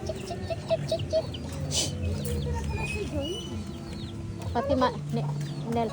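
Chickens that are losing their feathers cluck and murmur at close range in short, scattered calls, with people talking over them.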